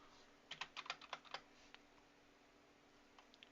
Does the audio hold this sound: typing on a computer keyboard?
yes